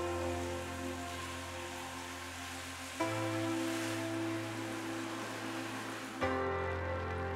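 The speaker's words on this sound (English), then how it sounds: "Here's some footage of a very light rain that we had during our recent monsoon." Light monsoon rain runs steadily into a home rainwater-harvesting tank, making a continuous trickling wash with soft splashing. Two brief bumps in level break the flow, and no voices are heard.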